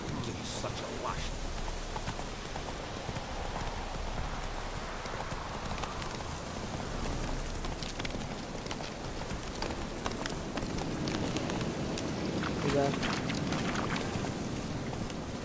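Roach, a horse in The Witcher 3, clip-clops along at a steady pace, hoofbeats running under a rain-like hiss and game ambience. A voice speaks briefly over the sound.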